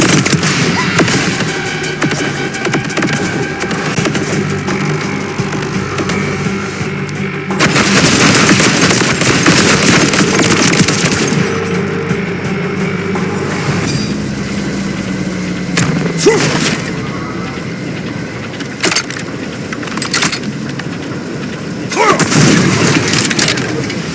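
Explosions and rapid gunfire from a Borderlands 4 firefight, loud and dense throughout with repeated booms and bursts layered over game music and effects, and a brief voice line in places.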